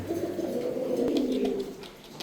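Soft, steady pigeon cooing at a pigeon market, a low throaty murmur rolling on for a couple of seconds with faint background noise.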